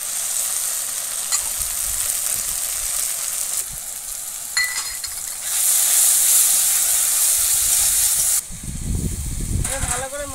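A paste of dried chili, cumin and coriander sizzles loudly while frying in a pan, a dense close crackling hiss with stirring scrapes that swells midway and ends in a brief clatter.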